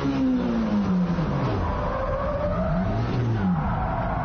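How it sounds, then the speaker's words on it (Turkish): A race car speeds around a Formula circuit and runs off the track, its engine note climbing and falling in quick, loud sweeps with a hint of skidding. "Pisti test etmek için yarış otomobili de kullandı."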